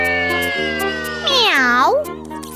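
A big tomcat gives a single loud, close meow with a rising-then-falling wail, set over soft background music in a children's animated story.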